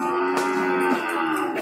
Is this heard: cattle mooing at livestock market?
yes